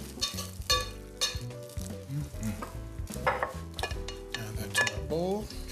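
No-bake mac and cheese gets tossed in a bowl, with repeated clinks and scrapes of a utensil against the dish and soft, sticky stirring in an irregular rhythm.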